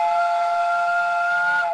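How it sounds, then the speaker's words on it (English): A factory steam whistle blowing noon in a 1937 radio drama: a single steady, loud whistle tone held for nearly two seconds with a faint hiss beneath, no voices over it. "That's the noon whistle."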